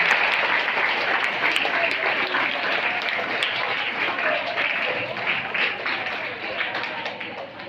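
A school investiture ceremony audience claps continuously, a steady dense round of applause holding fairly loud for the whole stretch and easing slightly toward the end, with faint voices mixed underneath.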